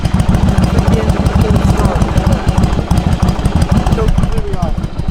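A 1997 Yamaha Virago 1100 motorcycle idles with the choke fully off, a loud, close, steady rumbling V-twin beat with fast even pulses continuing throughout.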